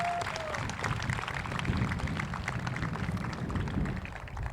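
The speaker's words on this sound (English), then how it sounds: "Let's give them a round of applause." A graduation crowd at a high school commencement applauds parents and grandparents, a broad, continuous wash of clapping from a large audience heard at a distance in a reverberant space.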